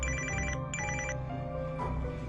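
An incoming call makes a phone ring with a bright electronic ringtone. Two clear repeating bursts are followed by a lingering tone, close and steady, with no talking.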